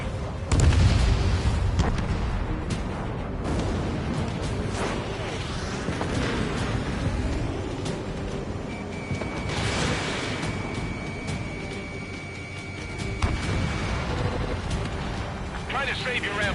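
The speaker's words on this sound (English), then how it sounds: "Missile hit." A missile strikes in an aerial combat video game, with a loud booming blast at the start and then a rumbling roar of engines and further muffled bursts, with radio voices speaking over it.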